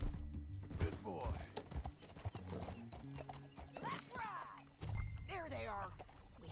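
Horse hooves clip-clop steadily in Red Dead Redemption 2 as a horse walks along a trail, a soft rhythmic clatter running beneath frequent speech.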